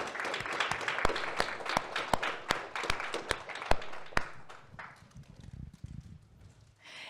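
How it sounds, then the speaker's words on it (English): A small audience at a pitch event gives a round of applause. Sharp, distinct claps come in a steady rhythm, then thin out and fade toward the end. "Let's give them a round of applause"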